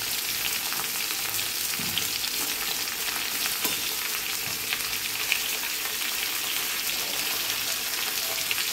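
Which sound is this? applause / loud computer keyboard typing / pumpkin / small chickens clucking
pumpkin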